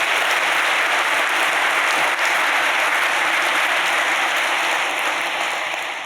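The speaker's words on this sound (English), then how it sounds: "can I have a round of applause?" Sustained applause from a conference audience at the opening of an IT summit, a dense, steady wash of clapping hands that holds at full strength for several seconds before easing slightly at the end.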